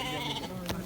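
Sheep bleating close by near a tent on a cold mountain trek, with several short cries over a rustling, breezy background and a brief sharp noise near the end.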